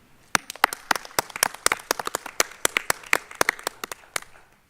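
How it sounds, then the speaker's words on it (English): Scattered clapping at a county school board meeting, a modest group of hands beating in an uneven, moderately close patter that tapers off after a few seconds, with no voices over it. "Please give them a round of applause"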